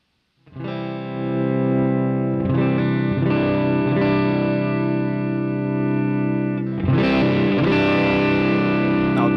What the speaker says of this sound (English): With the Plexi, I'll demonstrate the more distorted kind of sounds